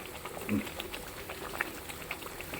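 A pot of goat liver curry simmers in water, giving a steady bubbling and popping boil with a few sharper blips; it is close and continuous.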